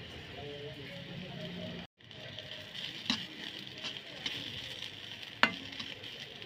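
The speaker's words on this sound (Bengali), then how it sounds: "এখন দিয়ে দেবো কালিজিরা ভেজে" Black cumin seeds fry in oil for a Bengali bharta, a soft continuous sizzle with a few sharp clicks of stirring and a brief gap of silence near the start.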